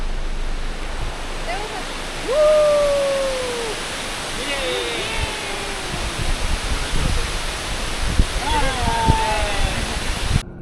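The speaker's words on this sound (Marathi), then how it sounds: "जाळगेवाडी धरण आता ओव्हरफ्लो झाला" Steady rushing water fills the scene as Jalgewadi dam in Satara overflows, a broad roar like water pouring over a spillway, with faint bird calls and occasional bumps over it.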